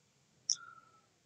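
One short mouse click lands on an 'I'm not a robot' checkbox in a web sign-up form, a single sharp tick followed by a faint fading tone in an otherwise quiet room.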